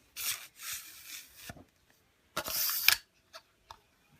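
The telescopic handle of a KUFA landing net slides with short rubbing, scraping strokes in two bursts, ending in a couple of small clicks, close and fairly quiet.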